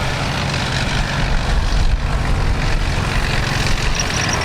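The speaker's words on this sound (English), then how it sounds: "Last German vehicle coming through there" A German World War II military vehicle passes during a land battle display at the Victory Show, its heavy engine giving a loud, continuous rumble that swells slightly midway before holding steady.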